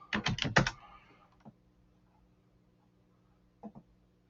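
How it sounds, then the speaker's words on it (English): A quick burst of computer keyboard typing while entering a search for ARRL Field Day data, with several close key clicks at first, then a long pause and two final taps. "So we'll just type in ARRL Field Day Data."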